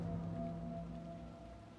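Rain falls in the Storm Coast area of the game Dragon Age Inquisition, a steady soft hiss with faint low rumbling beneath it, fading slightly over two seconds.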